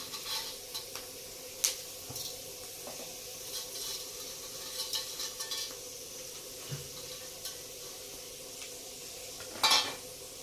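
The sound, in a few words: potato chivda frying in oil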